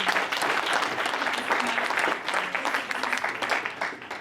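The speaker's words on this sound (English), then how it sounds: "Let's give her another round of applause." An audience at a KMPDU event tribute to Daisy Korir gives a round of applause, dense continuous clapping at steady loudness throughout.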